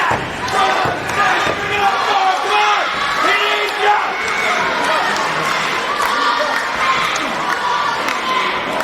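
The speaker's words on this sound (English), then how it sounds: "Crowd firmly behind Rustache, willing him to fight back" An independent wrestling crowd cheers and chatters steadily throughout a match, with scattered shouts and slams from the ring, while a commentator talks over the noise.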